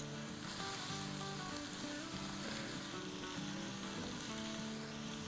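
Dried plums are sautéed in a pan for chana dal pulao, giving a soft, even sizzle that holds steady and close, with faint music running underneath.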